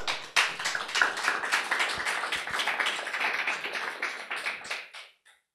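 An audience at an Argentine chess club event breaks into a dense, steady round of applause that carries for several seconds before thinning out and stopping abruptly near the end.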